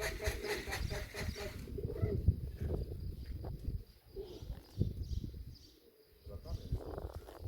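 Racing pigeons coo softly in a loft during a race return, low rhythmic purrs close by, with faint insect-like buzzing and quiet background voices.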